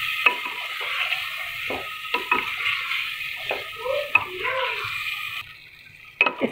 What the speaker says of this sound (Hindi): अब मैं इसमें अपने जो हमारे आलू हैं इसे हम इसमें शामिल कर देंगे और हम इसको करेंगे मिक्स